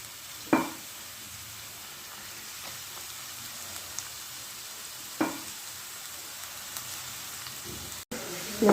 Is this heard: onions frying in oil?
yes